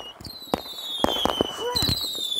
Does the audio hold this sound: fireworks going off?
yes